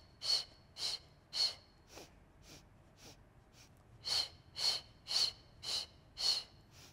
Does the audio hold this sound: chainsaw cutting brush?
no